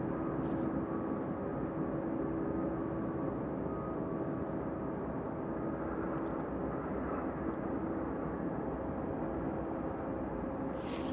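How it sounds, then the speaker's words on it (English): An airliner on final approach into East Midlands Airport in the evening, heard as a steady, continuous engine roar that holds at an even level throughout, with no talk over it. "That one should be making a left-hand turn on its final approach into East Midlands this evening."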